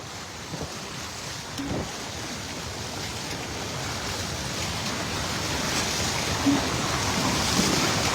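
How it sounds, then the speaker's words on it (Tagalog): Strong floodwater rushes through a barangay road in Bantac, Magpet, Cotabato, a loud, continuous roar with wind buffeting the microphone and growing slightly louder toward the end. "Kusog kayo ang baha."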